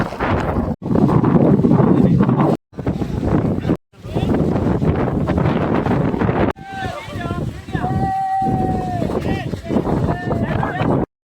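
Strong, loud wind roars and buffets the microphone almost continuously at Ranipuram, with brief drops, and a few faint tonal whistles near the end.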